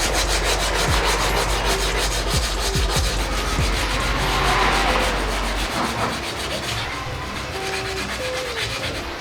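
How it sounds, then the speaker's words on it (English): Hand sanding of a car body panel with 180 grit sandpaper, no block, giving steady close scratchy rubbing strokes for the whole stretch, loud and continuous with a low hum underneath. "I'm using a 180 grit sanding paper"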